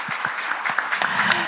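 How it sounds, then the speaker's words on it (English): A seminar audience at an international flight safety gathering breaks into applause, a brief burst of clapping from a hall with a few voices and low thumps mixed in. "So please, a good round of applause for the excellent."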